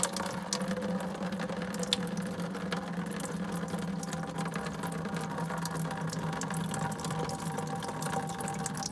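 Water runs steadily out of a 1968 Ford Mustang's cooling system during a flush, a continuous splashing gush close by with no talk.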